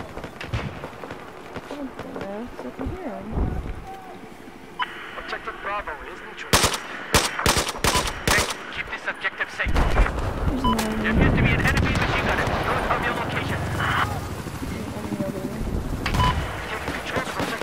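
Bursts of automatic gunfire in Battlefield 4 crackle through the middle of the passage as a cluster of sharp shots, set against steady game ambience with someone talking over parts of it.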